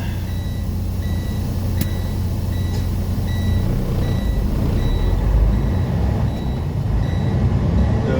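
Reversing beeps from a long-haul truck pulling back into traffic on CA-58 West, a steady repeating high beep over a loud, constant engine and road rumble.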